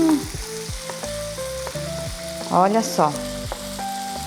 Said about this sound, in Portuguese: Dá aquela refogada. Ó, o cheiro aqui também já tá subindo, porque alho e gengibre fritinho é outra coisa.